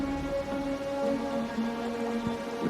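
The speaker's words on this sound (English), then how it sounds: "We march on to the Northfall Barrens as soon as the rain stops." Rain pours in Wuthering Waves, a continuous hiss under a sustained low tonal drone, with one brief thud near the end; no speech.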